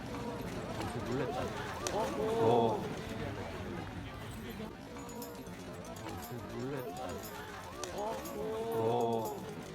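Royal Guard parade horses' hooves clip-clop on the ground amid agitated whinnies and a bustling parade crowd, with voices in the background.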